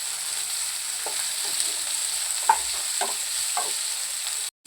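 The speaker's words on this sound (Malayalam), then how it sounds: "ഈ ഉള്ളിയും പച്ചമുളകും അതൊക്കെ നന്നായിട്ട് വഴണ്ട് വന്നിട്ടുണ്ട്." Sliced onion and green chillies sauté in a pan with curry leaves, making a soft, steady sizzle broken by a few light stirring clicks, then a sudden brief cut to silence near the end.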